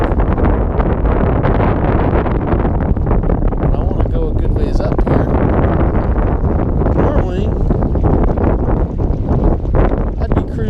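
Strong wind on a reservoir roars and buffets the microphone continuously for the whole stretch, loud and close, with a voice faintly mixed into the rumble.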